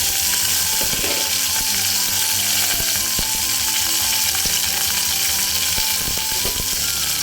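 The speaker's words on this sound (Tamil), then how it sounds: "இது கொஞ்சம் நேரம் வதங்கட்டும் பாருங்கள்" Masala for chana gravy sizzles steadily in a pan, a constant loud hiss with scattered small pops and clicks throughout.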